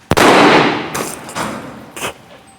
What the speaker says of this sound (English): God, Eric even looks bored shooting people